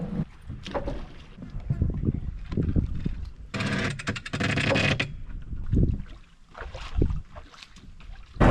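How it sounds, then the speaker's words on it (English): A small skiff is driven across open water, with a wash of wind and water noise, a louder surging burst partway through, and bumps and splashes around it. "We're gonna drive the skiff over and load it up onto the boat trailer"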